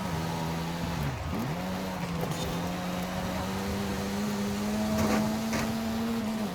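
Race car engine in a racing video game, a steady droning whine that dips briefly and then holds a constant pitch, moderately loud and alone, with faint tire and track noise underneath.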